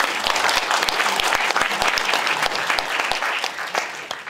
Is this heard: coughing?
no